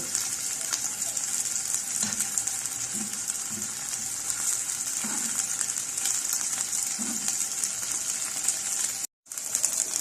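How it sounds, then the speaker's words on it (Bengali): A continuous, even hiss of chicken pieces frying in a pan fills the scene, with a few soft knocks and one brief drop to silence near the end. "উল্টে পাল্টে এভাবে আমি সবগুলো চিকেন ভেজে নেব।"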